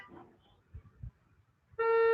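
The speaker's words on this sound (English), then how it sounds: "When you get there, honk your horns." A car horn at a drive-in church service sounds one sustained honk at the end, loud and steady, after a few faint low thumps and quiet background noise.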